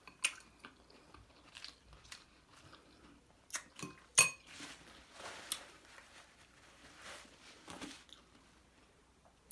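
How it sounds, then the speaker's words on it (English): Someone bites into and chews saucy fall-off-the-bone ribs seasoned with onion powder, close up, with a few crisp sticky bites and wet chewing sounds and faint clinks of cutlery and dishes, without any talking. "I'm going to take a little bite of this."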